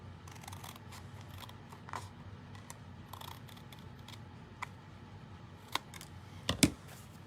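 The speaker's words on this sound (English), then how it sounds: "you can feel that edge when you're cutting with scissors" Quiet, sparse snips of scissors cutting through card paper, isolated crisp clicks and crunches scattered over a soft room background, with a couple of sharper cuts near the end.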